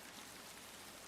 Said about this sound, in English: rain made first into hiss, and then, when the line passes under timber, into drumming above your head